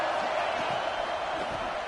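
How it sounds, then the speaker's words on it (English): Stadium crowd roaring in a Madden football video game on a third-down defensive stand, a dense, steady wall of cheering throughout with no breaks. "Decibels rising as the crowd gets behind this defense on third down"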